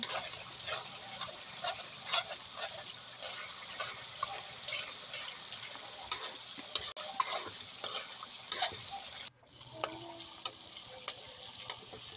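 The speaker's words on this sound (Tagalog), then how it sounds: "Halo-halo lang hanggang mag-golden brown po ang ating latik." Coconut cream cooking down into latik for biko, fried until golden brown: a steady bubbling sizzle with frequent spoon scrapes and ticks against the pan, close and moderately loud, briefly dipping near the end.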